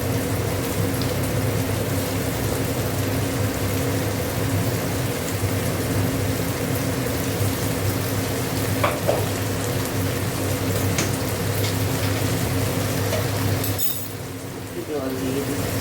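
Ginger-garlic paste hits a pan of frying onion and tomato, giving a steady, dense sizzle that runs throughout, with a faint clink partway through before the sizzle thins near the end.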